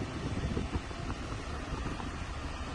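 A steady, close rush of air blowing from a Chevrolet Cruze's air vent, with a low rumbling texture, continuous and even throughout.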